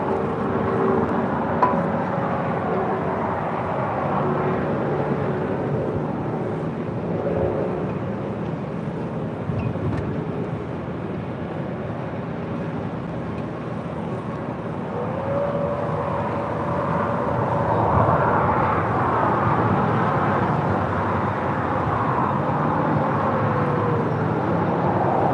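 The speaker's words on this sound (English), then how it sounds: "the aircraft's still currently on taxiway Alpha" A plane taxis at Los Angeles airport, a steady, fairly loud engine drone rolling on continuously with a slight swell near the end, and no one talking.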